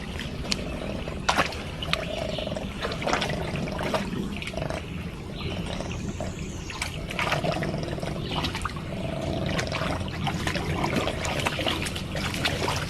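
A hiking-trail creek trickles and gurgles steadily and close by, with scattered splashes and faint ambient noise over the whole span.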